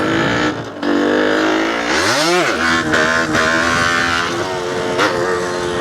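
A Yamaha DTR 125 two-stroke motorcycle runs up close, its engine sweeping sharply up and back down in one strong rev before settling into a buzzy, uneven idle.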